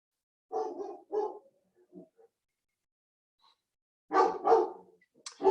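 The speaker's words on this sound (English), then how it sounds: "that's my dog barking in there" A dog barks indoors in a few separate bursts, two sharp woofs, then some softer muffled ones, then another loud pair close by, with quiet gaps between.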